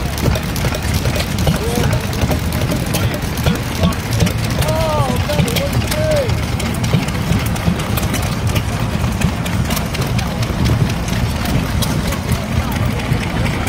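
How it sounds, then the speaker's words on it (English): Old steam engines chug steadily, a continuous low mechanical rumble with a faint rhythmic beat running throughout, close and fairly loud with faint background voices. "Still old steam engines, chugging away, quietly doing the thing."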